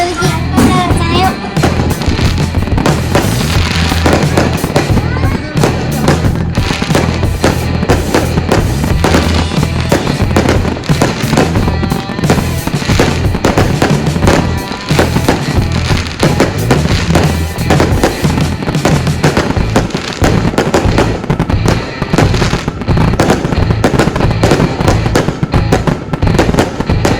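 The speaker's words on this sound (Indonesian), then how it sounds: "sana banyak kembang api, Bang." Dense, continuous New Year fireworks bursting for the whole stretch, loud crackles and booms overlapping with barely a pause, a faint voice now and then underneath.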